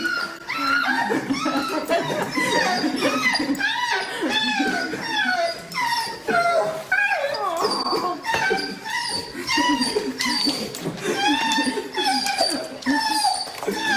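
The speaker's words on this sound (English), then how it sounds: "A dog is completely shocked when his best friend suddenly reappears after being gone for 9 months of military training" A dog excitedly greets its owner, who has returned after nine months of military training, with a rapid run of high whimpers, whines and yips, near and loud, and nearly constant throughout, with some human laughter mixed in.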